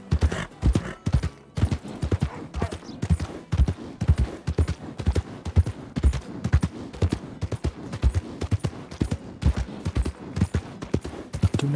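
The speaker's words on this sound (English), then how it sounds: "That's a beautiful horse." Rapid horse hoofbeats clatter in a steady trotting rhythm, loud and close, continuing throughout with little else around them, in Red Dead Redemption 2.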